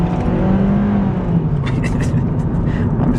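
A small car accelerates with a loud, steady engine drone rising in pitch, heard from inside the cabin with constant road and motor noise throughout.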